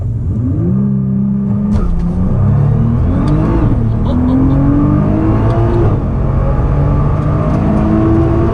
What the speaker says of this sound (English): once we slam on the gas, it's going to take off as fast as it can